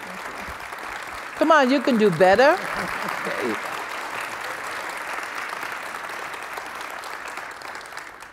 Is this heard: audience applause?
yes